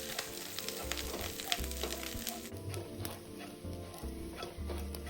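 Chopped dried shrimp fry in a little oil in a wok over medium heat, giving a steady close sizzle with scattered crackles and occasional stirring scrapes throughout.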